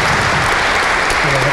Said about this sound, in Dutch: Dus applaus voor Nick van Tienen.